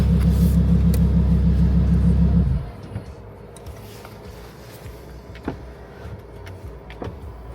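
A car engine runs with a loud, shaking low rumble for a couple of seconds, then cuts off abruptly, leaving quiet cabin sounds and small clicks.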